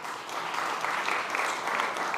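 An audience at a food summit panel applauds as a speaker is introduced, a steady, dense wash of clapping that holds at even loudness throughout.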